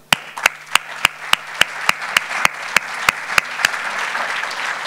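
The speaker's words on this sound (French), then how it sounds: "Je voudrais juste qu'on puisse l'applaudir." Audience clapping for a Légion d'honneur recipient at a public gathering in Courbevoie: a sustained bed of applause cut through by loud, evenly spaced claps in a steady rhythmic beat, with no talking.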